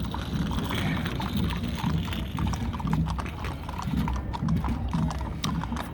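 Horse hooves clip-clop steadily on pavement in a Veterans Day parade, one rider sitting side saddle, amid a dense, loud outdoor crowd and a continuous rumbling background.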